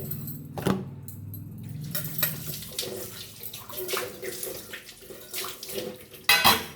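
Dishes being scrubbed and rinsed under a running tap, with water splashing and clattering pots and utensils in irregular knocks, close by, ending in a louder gush of water.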